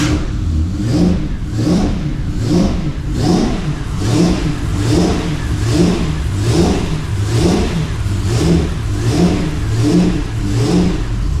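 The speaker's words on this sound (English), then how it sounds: "you'll rather enjoy the delightful sound that the engine makes on this particular car" A Jaguar XJS engine revs repeatedly through a custom exhaust system, with loud, rhythmic surges and drops in a steady cycle of blips and throaty pulses, close by and with no voices.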